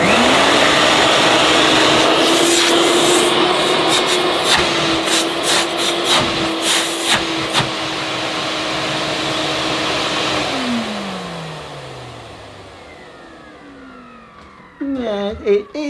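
An Electrolux Z65 Twinstream vacuum cleaner whines steadily and loudly at a constant pitch, with clattering handling noises, then switches off and spins down, its motor tone falling away before a few closing knocks.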